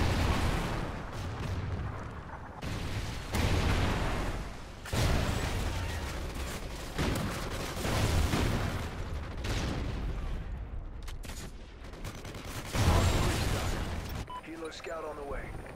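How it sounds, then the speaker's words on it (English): Trinity rocket strike explosions in Call of Duty: Ghosts, a run of heavy, rumbling blasts repeating every second or two with a dense low-end roar, mixed with other battle noise and radio voices talking throughout. "Friendly Trinity rocket inbound"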